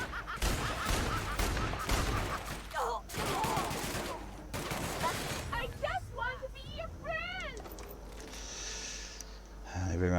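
Gunfire from shooting enemies in The Outer Worlds: rapid bursts of shots crowd the first half, then give way to warbling, chirping game effects while a voice talks over much of it.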